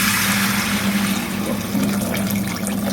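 Water pours steadily into a pot for Udupi-style turkey berry curry, a continuous splashing rush close by with no talking.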